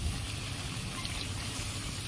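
Water poured into a pan of thin fish curry made with papaya and green banana, a steady close splashing trickle running on without pause.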